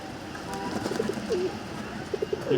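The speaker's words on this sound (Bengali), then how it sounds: "সব কবুতর ঠিক মতো গোসল করবার চায় না" Pigeons coo softly in short rolling bursts while bathing, over a low background murmur, several calls close by.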